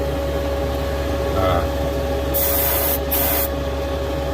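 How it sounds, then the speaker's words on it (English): An aerosol spray can hisses while someone paints the masked back plate of a 1969 Dodge Charger R/T model, in a few bursts of about a second each over a steady hum, close to the mic. "It's easier to mask everything else and just spray that area."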